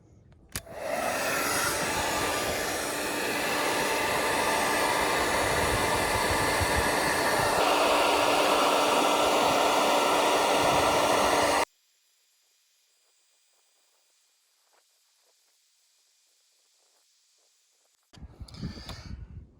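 Handheld blow dryer blasting hot air onto the Land Cruiser emblem of a 100 Series Toyota Land Cruiser, a loud steady roar of about eleven seconds that cuts off abruptly into near silence before a brief noise returns at the end.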